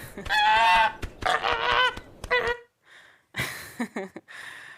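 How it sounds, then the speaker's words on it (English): A wild goose honking for a video game: a close series of harsh, nasal honks and squawks in uneven bursts, with short silent gaps between groups. "My first notion was to use all the wild noises a goose makes, so these ones."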